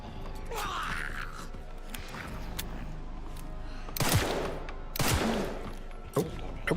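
Resident Evil 9 gunfire bursts out in a few loud, sharp shots, two heavy blasts standing out after a stretch of quieter game noise, with a final shot at the end.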